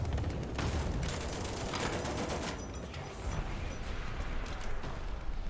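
Heavy tank gunfire and explosions in the War Thunder video game during a large tank battle, a dense, loud, continuous roar of blasts and rumble throughout.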